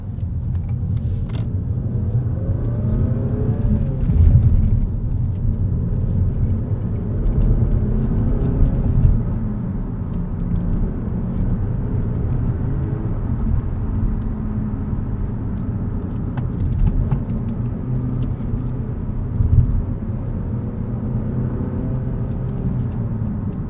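A 2023 Mazda 3 with a manual gearbox on the move, its engine and road noise forming a steady, close, low droning rumble that holds evenly throughout with no talking.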